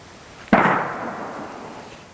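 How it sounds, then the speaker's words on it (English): A flintlock rifle fires during a Pennsylvania deer hunt, one single muffled boom at a distance followed by a long rolling echo that fades over a couple of seconds. "Another shot down there."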